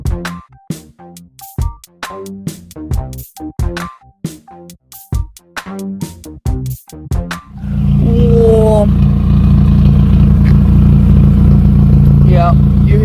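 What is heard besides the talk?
Honda Prelude engine idling with a misfire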